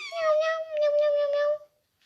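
A single drawn-out cat meow from the Toca World video game, loud and close, with a bright rising-then-steady tone lasting about a second and a half before cutting off cleanly into silence.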